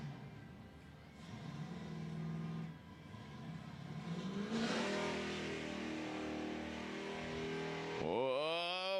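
A 1969 Dodge Charger's engine revs loudly at Rad Torque Raceway during street-legal drag racing, a sustained roar that swells and climbs in pitch, with a voice cutting in briefly near the end.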